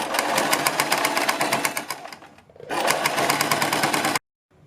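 A sewing machine stitches a strip onto a kurti neckline in two fast, steady runs, pausing briefly in the middle before stopping, then falling silent.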